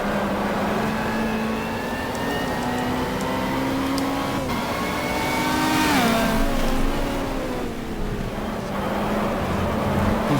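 A BMW LMP prototype race car in the GTR2 racing game at Road America, its engine droning steadily at high revs and dipping briefly through a gear change midway, loud and continuous.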